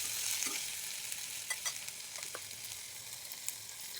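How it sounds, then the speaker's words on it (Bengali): Ginger and garlic frying with green chili and onion in a pan, a soft continuous hiss and crackle with scattered light pops, fairly quiet and steady, no speech. "কাঁচামরিচ পেঁয়াজ ভেজে এখন আমি আদা রসুন দিয়ে দিলাম। ভালো করে ভেজে নিব।"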